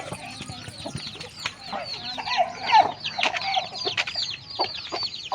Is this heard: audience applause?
no